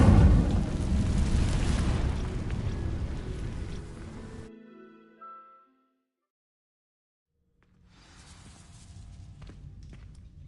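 An Incendio fire spell ignites dry vines in Hogwarts Legacy with a loud, roaring whoosh of flame that holds for a few seconds, fades into silence, then gives way to a softer rumble.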